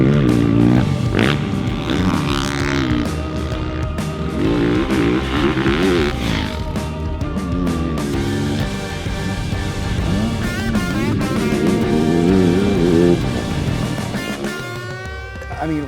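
Motorcycle engine revving and pulling while being ridden, with loud rising and falling pitch sweeps over steady road and wind rumble, and a rider's voice faintly mixed in.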